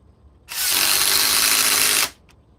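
A Ryobi power tool driving at 2,200 inch-pounds on a new Edge battery runs in one loud, steady burst of about a second and a half, then stops abruptly. No one speaks.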